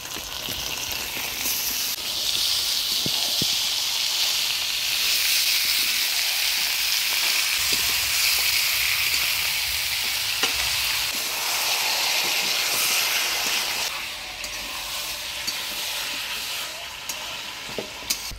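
Washed chicken meat sizzles and fries steadily in a hot pan with spices, a loud continuous hiss with occasional stirring clinks.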